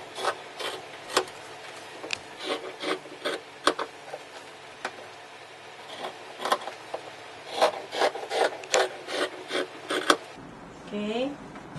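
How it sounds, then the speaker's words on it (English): Scissors cut through paper for a back pants yoke pattern piece of ladies' denim pants, giving close, repeated crisp snips and rustles in an irregular rhythm, with a soft voice briefly at the end. "Now I will be cutting the yoke of the back pants pattern."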